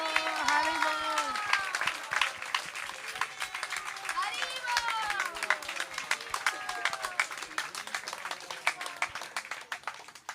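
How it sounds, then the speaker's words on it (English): Crowd applause with scattered cheering at an outdoor Kartik Parikrama devotional gathering in India, moderately loud, while voices and birdlike calls sound over the clapping. "Let's give another round of applause for Chaturatma Prabhu."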